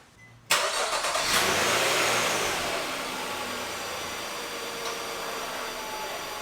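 An Audi car engine cranks and catches abruptly, then runs loud and close with a raised, revving roar that settles into a steadier high idle.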